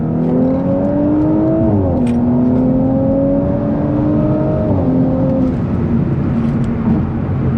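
A B9.5 Audi S4 with rolling anti-lag pulls hard in second gear, its loud, steady engine note climbing in pitch, dipping briefly at a shift, then rising again over continuous road roar.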